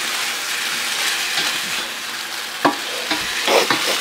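Sauce with parsley simmering and sizzling in a pan on low heat, a steady close crackle and hiss with a few soft clicks and taps near the end.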